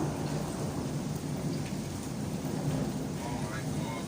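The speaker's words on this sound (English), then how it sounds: "I hope you can hear the rain" Heavy rain pours steadily during a thunderstorm in Santa Ponsa, a dense unbroken hiss with low rumbling thunder underneath, constant and fairly loud throughout.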